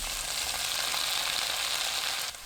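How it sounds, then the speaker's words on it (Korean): Minced garlic sizzles in cooking oil in a pan over high heat, a bright, constant hiss close by that drops slightly in level just before the end. "팬에 식용유 2큰술, 다진 마늘 반큰술 넣고 센 불로 볶습니다"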